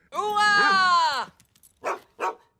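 A cartoon dog barks in the Fireman Sam animated series, one long drawn-out harmonic bark-like yowl followed by two short yips, loud and close with no talk over it.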